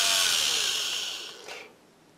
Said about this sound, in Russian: Просверлена одна часть, внутри полая, и теперь нужно досверлить, чтобы полностью можно было продеть нить.